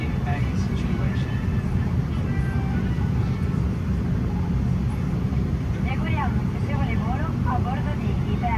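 Steady, loud broadband cabin roar aboard an ITA Airways airplane flight, a constant engine and airflow drone with faint background sounds layered on top.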